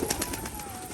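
A pigeon gives a brief, soft cooing burst, close by and moderately quiet.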